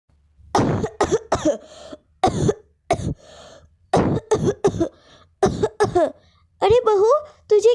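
A woman coughs in a Barbie doll horror story, a series of sharp close coughs and throat clearing that come in bursts with short gaps, ending in strained vocal sounds.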